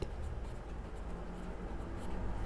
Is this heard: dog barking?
no